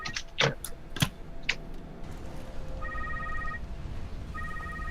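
Telephones ringing in the video game Secret World Legends, with several quick mechanical clicks and thumps first, then two bursts of a bright electronic ring over a steady low hum.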